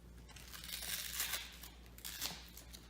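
Bandage wrap being peeled and unrolled, soft close crinkling and tearing rustles in a couple of slow swells, quiet and with no talking.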